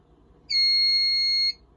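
A fire alarm panel sounds a trouble signal after a module is disabled, a single steady high-pitched electronic beep lasting about one second, clear and alone over quiet room noise.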